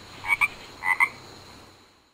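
A frog croaks in two quick doubled bursts about half a second apart, close and clear against a quiet background, then stillness.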